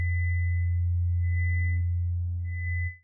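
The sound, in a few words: synthesizer sine wave with an added high harmonic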